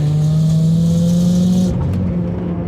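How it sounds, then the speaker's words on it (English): A car engine with a manual transmission pulls hard after a downshift into second gear. The steady, loud engine drone holds close and even, then shifts slightly in tone near the end. "Shift down second, do a quick pull."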